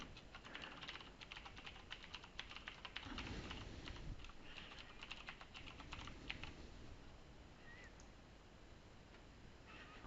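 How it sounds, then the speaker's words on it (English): Keystrokes on a computer keyboard as admin credentials are entered, a steady run of quick clicking taps over several seconds that thins out toward the end, close and fairly quiet with no talking. "So I'll just type those in."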